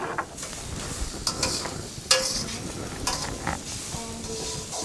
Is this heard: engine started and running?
no